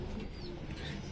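High flyer pigeons kept as a hobby at a house in Krishnanagar coo softly and repeatedly at close range over a steady low background hum.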